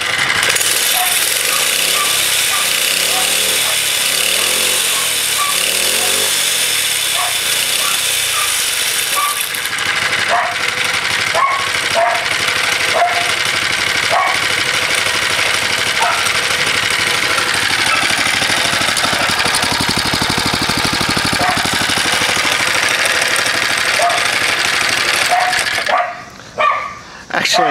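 A motorized bicycle engine with a newly fitted muffler runs steadily close by for the whole stretch, its rough idle broken by a dog barking repeatedly in the foreground.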